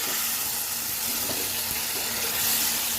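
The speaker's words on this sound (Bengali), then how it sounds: "আরেকটু কষানোর জন্য এখানে আমি কিছুটা জল দেব" Taro and spice mixture frying in a pan as water goes in, producing a loud steady sizzle and hiss throughout with faint bubbling underneath.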